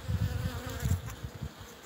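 Honeybees buzz close by at a freshly opened outdoor hive after overwintering in spring, a brief, fluctuating hum of many wings with no talking.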